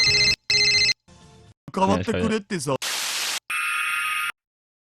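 A phone rings in the visual novel game Steins;Gate, a chopped sequence of electronic ringing bursts mixed with static hiss and buzzing tones, cutting in and out abruptly before ending in silence.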